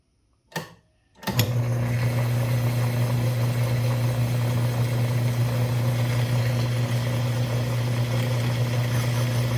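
A Poulan Pro Super 380 chainsaw engine starts with a brief burst, then settles into a loud, steady running drone that holds without a break for the rest of the stretch.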